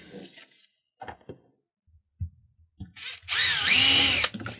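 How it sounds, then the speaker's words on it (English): A power drill bores a quarter-inch hole through a PVC pipe for a flashlight mount, with a few clicks and knocks of handling first, then a loud whining burst of drilling near the end. "we're gonna drill a 1/4-inch hole right through the top of the center piece of PVC right here"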